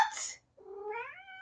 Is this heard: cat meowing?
yes